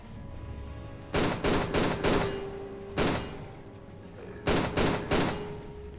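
Dual pistols firing in Tomb Raider 4–6 Remastered, heard as bursts of loud rapid gunshots in several clusters separated by short pauses, with low game ambience in between.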